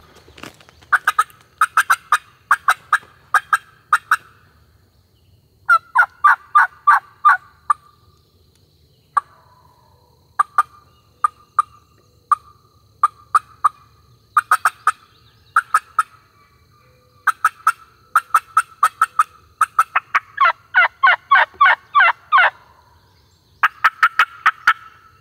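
Wild turkey gobbler in the South Alabama woods on opening day, sounding repeated loud, rattling gobbles in bursts with short pauses between, close by, with no talk.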